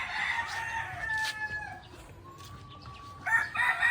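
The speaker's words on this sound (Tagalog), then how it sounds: "Meron din tayo dito Rhode Island Dark mga idol." Rhode Island Dark rooster crowing behind a house, a clear close call with a rising, sustained crow, then more crowing and clucking from nearby fowl toward the end, with no talk.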